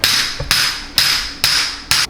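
Naprapathy therapy hammers striking a body in five sharp, loud, evenly spaced blows, each ringing briefly before the next, with no talk.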